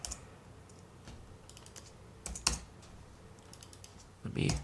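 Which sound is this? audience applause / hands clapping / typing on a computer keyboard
typing on a computer keyboard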